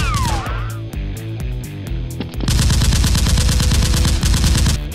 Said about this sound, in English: The henchmen chased him, and Jack turned around to shoot and kill one of them